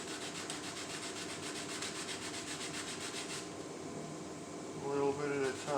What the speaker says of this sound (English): Just sand it.